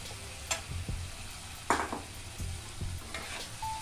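Fried potatoes and lentil dumplings sizzle in spice paste in a pan, a soft continuous frying hiss broken by a few stirring scrapes and light clinks of a utensil, fairly quiet.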